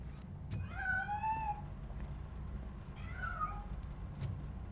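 Cat hiding inside a piano in the video game Robocop: Rogue City, giving two drawn-out meows separated by a pause, moderately close over a low background rumble with faint high tones.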